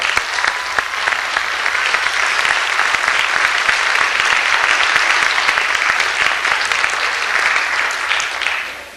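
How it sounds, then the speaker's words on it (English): Sustained, dense applause from an audience at a 1992 National Honor Society presentation, steady and loud for the whole stretch with no voices standing out, tapering slightly at the very end. "Let's join in a round of applause."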